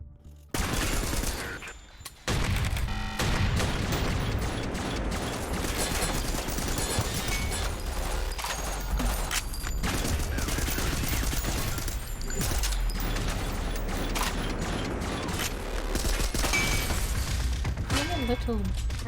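Rapid SMG bursts in a shooter video game, dense continuous automatic fire that runs almost the whole stretch, loud and close, with a voice talking over it.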